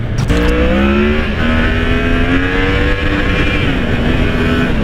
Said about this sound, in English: that was the rev limiter